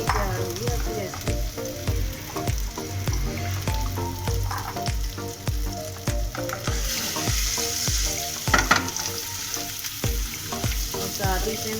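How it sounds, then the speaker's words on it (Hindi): Potatoes go into a frying pan of sizzling cumin seeds for bread kachori filling, giving a steady, close hiss of frying with repeated scraping stir strokes and clatter throughout, no voices. "जीरे का कलर चेंज होता है तो इसमें आलू जाएंगे।"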